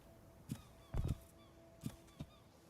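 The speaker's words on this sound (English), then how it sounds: "So now it's just a question of looking out for the seagulls." Seagulls in Escape the Pacific give a few faint honking calls, spaced apart with a doubled call in the middle, heard at a distance over a quiet ocean background.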